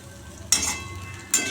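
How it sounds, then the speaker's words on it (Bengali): Potatoes fry in oil until browned. A low, faint sizzle carries through, broken by two short, louder bursts of frying or stirring about a second apart, with no voices. "আলু ভাজাটা হয়ে গেল, এবার নামিয়ে দিই"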